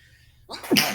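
A single sharp sneeze bursts out after a brief quiet moment, close and fairly loud.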